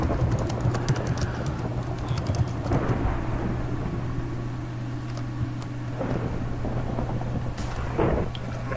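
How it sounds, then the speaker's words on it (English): Steady rain and a thunderstorm in the Tornado Survival video game, a constant dense wash with low rumbling underneath and a few brief sharper crackles, moderately loud and continuous. "I created a thunderstorm too"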